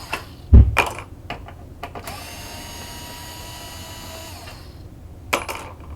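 Power screwdriver backing big screws out of an Xbox console, a sharp clack followed by a sustained whirring motor run of several seconds, then another short burst near the end.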